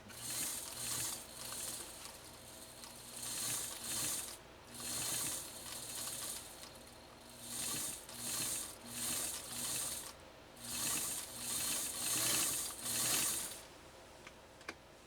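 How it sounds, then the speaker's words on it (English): A Pfaff 230 sewing machine runs a straight stitch beside a zigzag, a steady mechanical clatter coming in repeated bursts with short pauses between runs, close and alone. "I'm trying to lay down this straight stitch now next to this zigzag"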